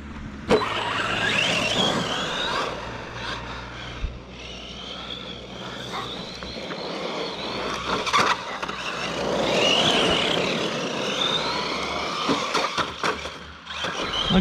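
ARRMA BigRock radio-controlled car driving on rough ground, its electric motor whining steadily with bumps and scrapes, close and fairly loud throughout.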